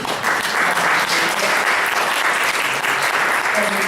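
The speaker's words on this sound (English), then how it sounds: "give them a round of applause" A public meeting audience gives a sustained round of applause, dense and loud clapping from many people that holds steady the whole time, with faint voices underneath.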